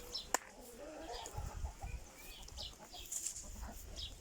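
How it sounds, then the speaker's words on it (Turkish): Faint clucking of chickens nearby over outdoor background noise, with a soft flutter of movement. "Aha tavuklara bak."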